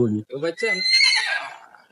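A horse gives a loud, close whinny lasting over a second, with a person talking briefly just before it.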